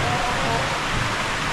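Light rain falls suddenly in a dry rural yard where goats are kept, a broad continuous hiss at fairly close range, with a faint voice underneath.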